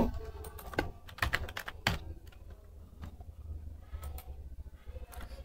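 Rapid clicking keystrokes on a Windows 10 PC keyboard while a command is entered into the command prompt, a steady close run of taps over a low background hum.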